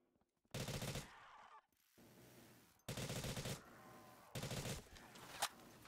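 Automatic gunfire in Black Ops 3 custom zombies, three loud sustained bursts of rapid machine-gun fire separated by short quieter gaps, close and harsh, with a single sharp crack near the end.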